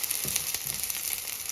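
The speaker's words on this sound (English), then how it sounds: "So I'm sauteing these onions" Chopped onions sautéing in a pan for homemade shrimp and crab fried rice, giving a steady, close sizzle and crackle with a few soft stirring scrapes and no talking.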